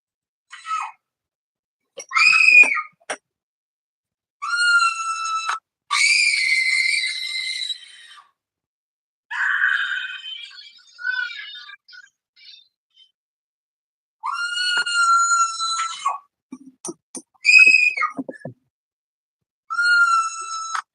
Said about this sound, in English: we got a video of me screaming